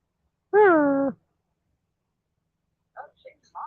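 A cat gives one clear, drawn-out meow nearby in a quiet room, followed after a pause by a few faint, brief sounds.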